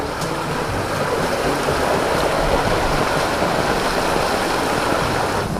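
Rushing floodwater on a mountainside during Typhoon Carina, a loud, continuous broadband roar of churning water with wind noise mixed in, steady and close throughout.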